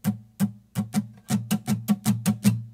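Acoustic guitar strummed in a fast up-down pattern, about a dozen crisp, evenly spaced strums, close and moderately loud with no talking.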